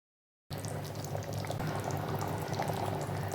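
Chicken kulambu curry boils in a pot, a steady, close bubbling and simmering that starts after a moment of silence and continues evenly throughout.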